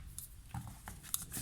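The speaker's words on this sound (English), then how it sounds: "I can just fussy cut it with my scissors" Small craft scissors snip paper in a few quick, close cuts, soft crisp snips scattered over about a second and a half with light handling noise between them.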